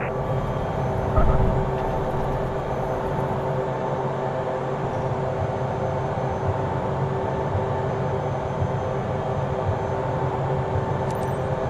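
A Pilatus aircraft in Microsoft Flight Simulator 2024 drones steadily in flight, a continuous engine and airframe hum at constant level throughout with a brief bump near the start, and no talking.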